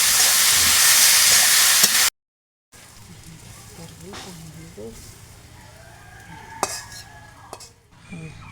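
Bitter gourd stir-fries in a pan: a loud, dense sizzle at first, then after a short silence, scraping stirs and sharp utensil clinks against the pan under a speaking voice.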